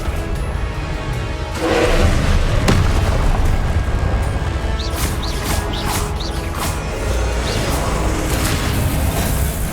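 Confringo explosive spell blasts in Hogwarts Legacy, heavy booming impacts over a dense rumbling battle din, with crackling magical bursts, loud and close.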